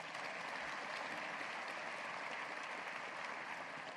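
Steady audience applause fills a university State of the University address, dense and even throughout with no talk over it.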